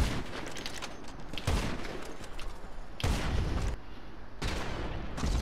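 Bursts of gunfire in a PvP video game tournament, several sharp volleys separated by short pauses, fairly quiet overall.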